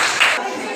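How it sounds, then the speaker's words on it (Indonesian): A class claps for a student group in a school lesson, a brief burst of clapping that fades quickly. "tepuk tangan buat kelompok 2"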